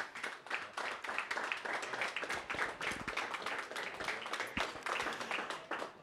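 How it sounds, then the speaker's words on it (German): Brief audience applause for a football club president at a live fan talk event, dense steady clapping from a crowd throughout, fairly close and even in loudness. "kurzer Applaus auch für den Präsidenten"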